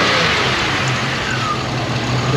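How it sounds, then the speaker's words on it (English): A car engine revs as the gas is pressed during a tune-up check, a steady loud mid-pitched engine drone with a faint rising tone, no talking. "Now, when we hit the gas,"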